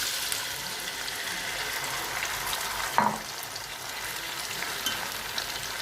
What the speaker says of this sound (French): Je vais les mettre dans la poêle.